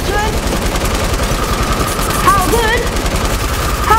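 In a Fortnite match, a rapid-fire weapon spits a dense, unbroken burst of automatic gunshots for several seconds, loud and close, with a player talking over it.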